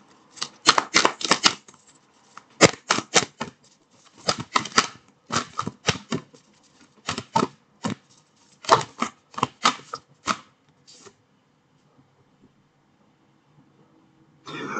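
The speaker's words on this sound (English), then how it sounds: "So, as a finish, I would just like to extract an oracle card." Oracle cards being shuffled and drawn during a tarot reading: repeated crisp riffling bursts in quick irregular clusters for about eleven seconds, close and fairly loud, then near silence.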